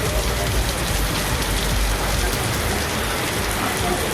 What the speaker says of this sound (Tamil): கரூரில் நேற்றிரவு மிதமான மழை பெய்தது